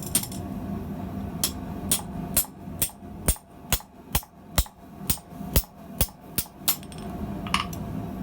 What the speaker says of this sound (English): the final step is drift through with the bolster pipe and pin